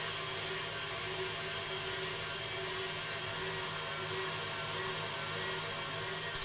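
Steady, loud whirring drone of an electric mixer whisking egg whites with caster sugar, an even hum with no pauses and no talking.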